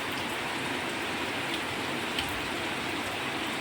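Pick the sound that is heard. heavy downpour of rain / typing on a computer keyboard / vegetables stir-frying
heavy downpour of rain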